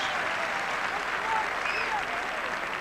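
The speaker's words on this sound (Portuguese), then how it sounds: "Muito aplaudido, Manis." A stadium crowd at a 2003 Barcelona versus Porto football match applauds as Oleguer is substituted, a broad, sustained wash of clapping and crowd noise with whistles faintly above it.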